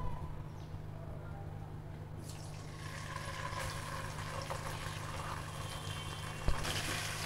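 Ginger, garlic and cumin paste sizzling in hot oil for biryani, a steady soft frying hiss that grows brighter midway, with a faint clink near the end.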